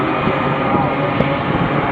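A C-17 jet turning during an air show, a broad steady roar of engine noise heard from a distance outdoors, with a brief spike near the end.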